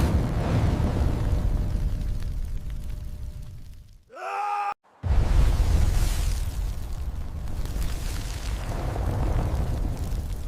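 Galick Gun energy blast from a Dragon Ball game in Minecraft, a loud sustained roaring explosion that cuts out briefly to a rising whine, then bursts back into a continuous rumbling blast.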